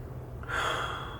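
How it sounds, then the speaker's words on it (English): One deep breath drawn in through the mouth, near and fairly loud, starting halfway through the clip after near silence, with no voices. "taking a deep breath"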